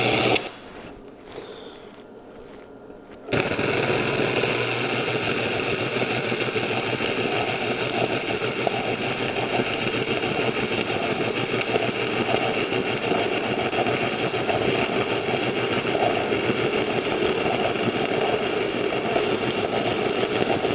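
Sefaspe 135 flux core wire welder set to full power, welding with a steady loud crackling buzz that starts abruptly after a few seconds of quiet and runs continuously to the end.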